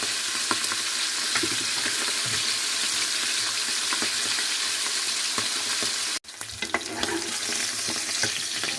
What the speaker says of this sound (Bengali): এটাকে একটু মানে ডিপ ফ্রাই করেই নিচ্ছি